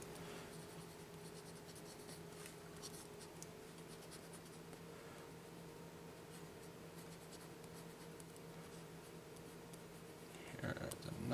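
A pencil scratches softly across paper while drawing a hand, with continuous light strokes at close range that stay faint throughout, and a brief rustle at the end.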